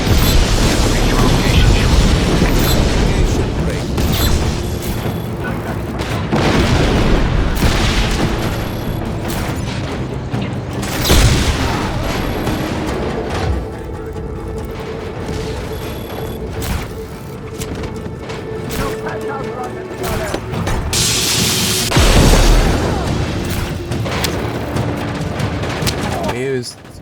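Enemy gunfire and explosions in the video game Just Cause 3, a dense, loud battle with sustained rattling fire and repeated booming blasts, sharpest around the middle and near the end.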